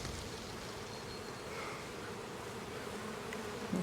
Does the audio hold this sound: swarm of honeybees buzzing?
yes